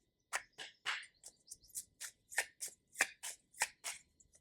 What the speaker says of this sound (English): they want me to shuffle this